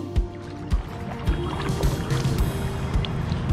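A canoe paddled along the Murray River near Echuca, with rhythmic paddle strokes splashing and knocking against the hull about every half second, close by, under light wind noise.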